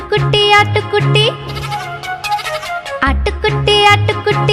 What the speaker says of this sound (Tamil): ஆட்டுக்குட்டி ஆட்டுக்குட்டி